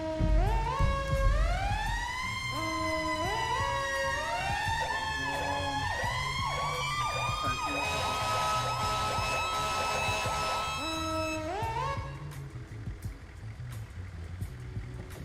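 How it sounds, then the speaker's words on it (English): Police siren from a patrol car in GTA V FiveM, close and loud, cycling through wailing sweeps and then fast yelping warbles before dropping back to a slow wail and cutting off near the end. "I'm using the same button for my siren"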